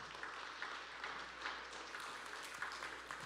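Audience applause for the week's volunteers from Passaic County at a community gathering, a steady, even wash of clapping from a fairly distant crowd, sustained throughout without voices.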